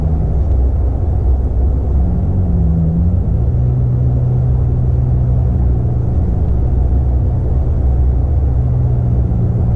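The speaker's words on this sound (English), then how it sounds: "Now let's do a downshift." Engine of a Toyota Tacoma pickup in S mode, droning steadily from inside the cab with a brief pitch shift near the three-second mark as the transmission downshifts, then settling into a constant low hum.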